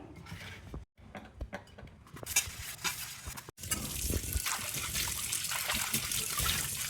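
Water splashes and trickles as fox nuts are rinsed by hand, with clattering knocks early on and a steady rushing wash later.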